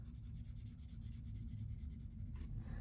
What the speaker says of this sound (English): so I'm gonna color in the dice that go with those dollar amounts